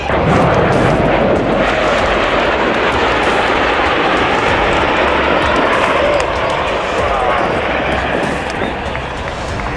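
Loud, steady roar of a V-22 Osprey tiltrotor flying overhead like an airplane at an airshow, dense throbbing engine and rotor noise sustained throughout with no clear speech.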